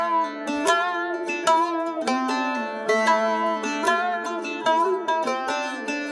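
A Middle Eastern string loop sample at 90 BPM plays alone, with bright plucked notes over sustained tones in a steady, full rhythm.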